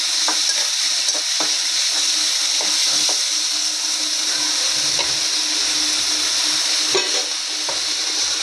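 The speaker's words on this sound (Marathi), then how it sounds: "त्याच्यामध्ये कांदा टोमॅटो चांगला भाजून घेऊया." Onion and tomato stir-fry in a pan for a raw banana curry, a continuous loud sizzle broken by scraping and tapping strokes of a spoon, close and with no talk.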